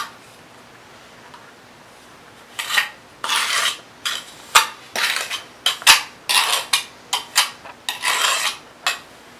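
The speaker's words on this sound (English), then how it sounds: "you want these teeth right here to give the grooves" A notched trowel spreads tile adhesive in a bathroom renovation, making a series of close gritty scraping strokes in an irregular rhythm after a quiet start.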